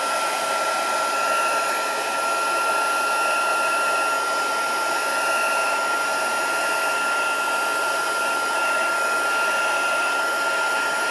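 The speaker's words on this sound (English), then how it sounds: "I'll just blast it very quickly with my heat gun" A heat gun blows continuously and loudly to dry a piece of vellum card, giving a steady, even roar with a faint high whine, with no talk over it.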